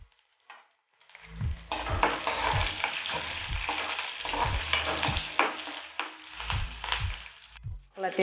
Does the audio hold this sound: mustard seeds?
yes